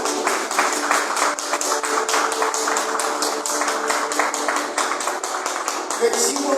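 A church congregation claps together in a fast, steady rhythm, loud and close, continuing throughout with the beats sharply evenly spaced.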